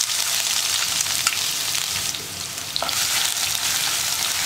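Crushed shallots hit hot oil with mustard seeds for a Kerala mezhukkupuratti stir-fry, giving a loud, steady sizzle and crackle throughout, with a few brief stirring scrapes and no talk.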